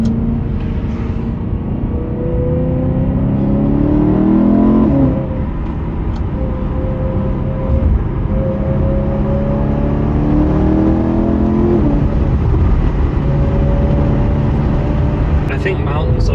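A BMW E92 M3 being driven on mountain roads, its engine revving loudly and continuously, with the pitch rising and falling in repeated sweeps as it accelerates and shifts.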